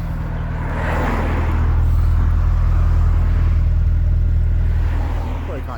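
A VW Golf engine idles steadily nearby, a continuous low rumble with faint traffic noise from a main road in the background.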